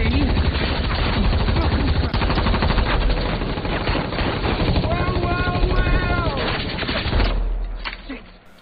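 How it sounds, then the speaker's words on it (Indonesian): Rapid rifle gunfire from a movie action scene, dense bursts of shots running nearly continuously at a loud, close level with a brief tonal whine partway through, fading out at the end. "diserang oleh Beats dengan menggunakan bedil brandnya. Namun, berkat bantuan dari sutradara, semua tembakan Beats meleset hingga pelurunya sampai habis."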